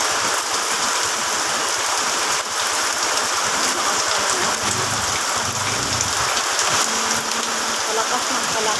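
Heavy rain pours loudly and continuously, a dense hiss of drops hitting surfaces with no break.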